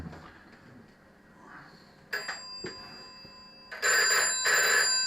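A telephone rings on a call-in line: quiet room tone, then a short ring burst followed by two longer, loud electronic rings near the end.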